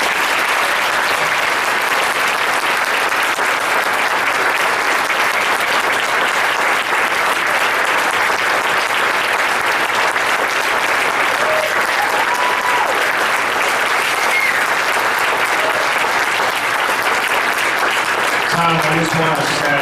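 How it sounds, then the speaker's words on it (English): A large crowd at a winter celebration applauds loudly and continuously, a thick, sustained roar of clapping that stays even for the full length and thins slightly at the very end. "I think we owe this man a great round of applause for all that he does for this program."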